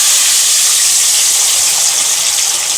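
Bitter gourd pieces frying in hot oil, a loud, dense, continuous sizzling hiss heard close up and alone, with no talk over it.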